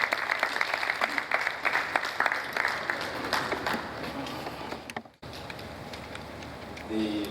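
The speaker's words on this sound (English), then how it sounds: "Please a round of applause for the engineer." Audience applause at a business roundtable on the construction industry greets an engineer coming up to give a welcome address, broadband clapping filling the first five seconds, a sharp dropout, then quieter crowd noise.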